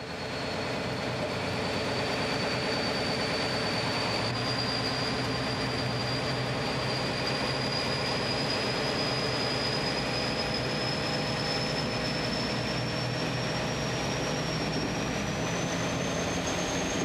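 SNCF CC 72000 diesel locomotive running on rails toward Vierzon, heard from inside the cab as a steady loud rumbling drone with a sustained high whine that slowly rises, continuous throughout with no talk.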